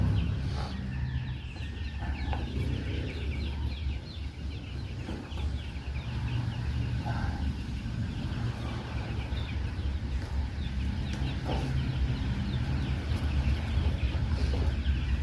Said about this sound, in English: We are retrieving our chickens from outside